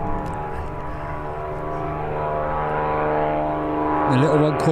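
A small aircraft at Birmingham airport gives a steady droning engine hum with a slight pitch shift as it passes nearby, with someone talking over it.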